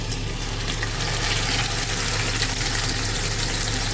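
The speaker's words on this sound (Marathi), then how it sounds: "त्याच्यात आपण हा कोलंबी खिंबा पहिला फ्राय करून घेऊया" Minced shrimp keema fries in hot oil in a pan, giving a steady, loud sizzle that continues unbroken without talk.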